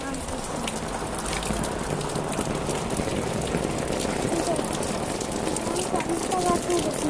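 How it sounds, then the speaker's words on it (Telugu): Heavy rain pours steadily in a constant dense hiss with scattered drops, a voice talking faintly beneath the downpour throughout. "ఈరోజు వాన వాన వాన చెప్పలేని వాన చూస్తున్నాను."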